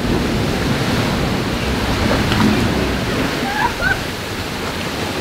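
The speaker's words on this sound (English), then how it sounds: "it's a little bit too much waves" Ocean waves surge and wash continuously through a beach cave on the Caribbean coast at Puerto Viejo, Costa Rica, a loud, steady roar of rushing water with no breaks.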